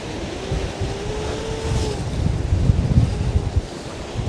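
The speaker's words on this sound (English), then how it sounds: "see how windy it is here" Gusty wind buffets the microphone at Groudle Glen on the Isle of Man, a steady low roar that swells louder toward the end, with no voices.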